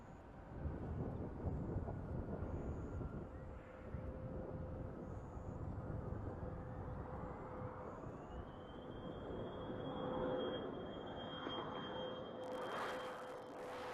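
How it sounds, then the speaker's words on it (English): Space Shuttle Atlantis comes in to land at Kennedy Space Center, a broad distant roar with a steady tone that rises in pitch partway through, swelling slightly before a sharp burst near the end. "Space Shuttle Atlantis now comes home to the Kennedy Space Center for the final time"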